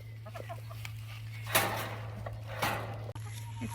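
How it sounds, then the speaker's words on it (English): Chickens in a backyard garden give faint, scattered clucks over a low steady hum, with a couple of louder rustling bursts. "It's been the day of chasing chickens."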